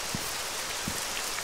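Steady rain in the video game Arma 3, a continuous hiss of falling drops with a couple of soft low thumps.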